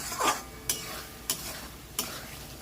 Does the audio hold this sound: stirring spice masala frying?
yes